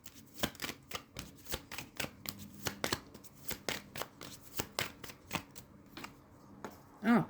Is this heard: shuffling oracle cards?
yes